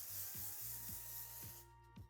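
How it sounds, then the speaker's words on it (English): Texturizing hair spray hisses in a broad, steady burst for most of the moment, then cuts off abruptly near the end, with faint low clicks and handling sounds underneath. "And as I'm spraying, I'm kind of lifting it so it gets evenly dispersed through the hair."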